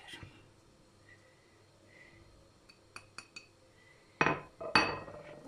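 A spoon mixes batter of flour, milk and baking powder in a bowl, with quiet light clinks followed by a couple of louder scraping, knocking strokes near the end, with no talk.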